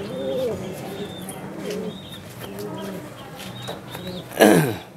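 Giribaz pigeons in a loft coo and call softly in repeated short phrases, with a louder burst of wing flapping or fluttering near the end; faint background sounds throughout.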